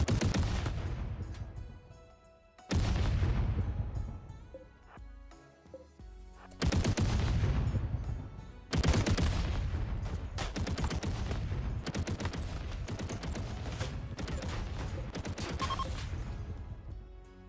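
Gunfire in a fantasy battle video game rings out in repeated dense bursts, with loud crackling volleys that start sharply, fade between salvos and then run on almost continuously.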